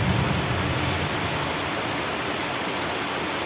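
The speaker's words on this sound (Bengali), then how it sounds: "এরকম বৃষ্টি আর কিছুক্ষণ হলেই বাঙড়ে মাছ ধরা যাবে।" Heavy first rain of the year pouring onto village farm fields, a dense steady hiss of falling water with no voices.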